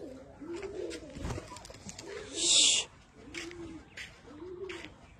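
Teddy pigeons cooing at a loft, with soft, rounded coos repeating at a steady pace and close by. A brief loud rush like flapping wings cuts in partway through.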